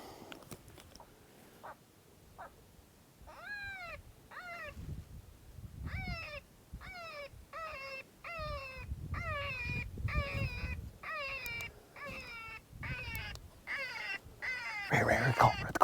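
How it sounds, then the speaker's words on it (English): An electronic predator call in the Nevada outdoors plays coyote pup distress sounds: a steady series of high, whining yelps and whimpers repeating in quick succession over low rumbling background noise. "I'm gonna crank some different prey distress sounds the first half, and then go into some pup fights,"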